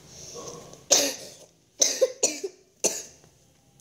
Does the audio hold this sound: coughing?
yes